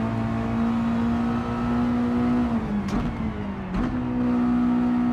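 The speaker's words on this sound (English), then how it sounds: "So am I downshifting too quickly?" Race car engine in Gran Turismo 7 droning at a steady high pitch, then two quick downshifts, each a sharp blip of revs with a brief dip before the note settles back, loud and close.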